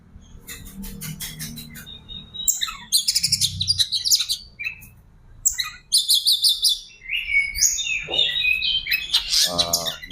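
A female oriental magpie-robin sings nearby in varied bursts of chirps, whistles and rapid trills, loud and clear, with short pauses between phrases.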